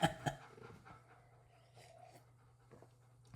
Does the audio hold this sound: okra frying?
no